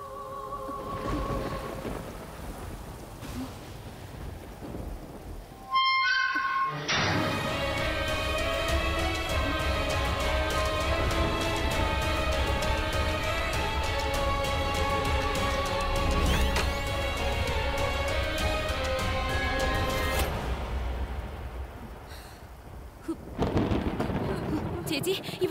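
Steady heavy rain pours in a thunderstorm near a temple shrine in a Malayalam TV drama, with a low rumbling bed of thunder and a loud constant wash that briefly drops out and returns.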